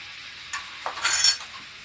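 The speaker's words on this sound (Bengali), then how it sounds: "ভালো করে একটুখানি নাড়লাম।" A spoon scrapes and stirs egg and chopped tomato through a spiced tarka curry in a pan, giving a few soft, close scrapes and a brief sizzling swish.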